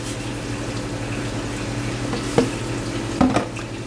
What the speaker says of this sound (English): Garlic powder, get that stirred in.